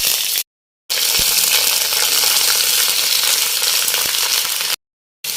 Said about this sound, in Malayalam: ആവശ്യത്തിന് എണ്ണ ഒഴിക്കാം. കടുക്, വറ്റൽമുളക്, ഇതിലേക്ക് നമ്മൾ അരിഞ്ഞു വെച്ചിരിക്കുന്ന സവോളയും ബാക്കി കഷ്ണം.